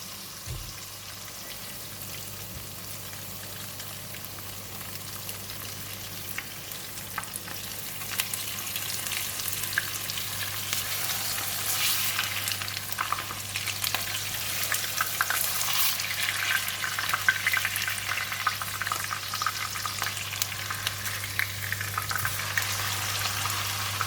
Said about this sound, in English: We're going to fry for about 2 to 3 minutes on each side.